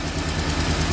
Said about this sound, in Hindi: मैं आपको अभी एक बार स्टार्ट करके दिखाता हूँ इसकी कंडीशन क्या है इंजन की